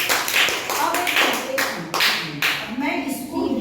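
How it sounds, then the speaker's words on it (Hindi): Classroom clapping during a Hindi-medium English grammar lesson, a burst of quick hand claps from several children mixed with chatter and a teacher's voice throughout. "ताली बजाओ इसके लिए।"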